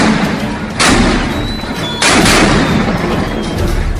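A Dutch cannon fired at a coastal fort in a historical reenactment, heard as two heavy booms about a second apart, each followed by a broad, sustained rumbling roar.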